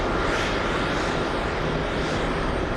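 An airplane lining up on the runway gives off a dense, steady engine roar, loud and unbroken throughout, with no talk.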